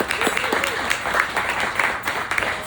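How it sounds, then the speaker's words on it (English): Audience applause at an evening poetry reading, a dense, steady patter of many hands clapping that fills the room, with a few faint voices mixed in. "Another round of applause for Dane today."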